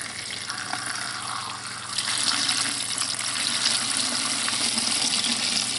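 Measured water pours steadily into a container for detergent making, a continuous close splashing hiss that grows fuller partway through and runs on without talk.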